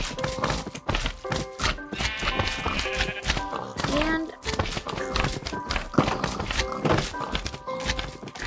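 Clip-clop hooves of a video-game horse in a Minecraft-style superflat world tap in an irregular rhythm, close and moderately loud, mixed with other game sounds while a voice talks over them.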